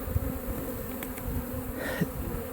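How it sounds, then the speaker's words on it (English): Honeybees swarm close by during removal of a hive from a cinder block wall in Lakeland, Florida, a continuous dense buzzing hum with a few louder individual bees passing near. "look at these bees all over me"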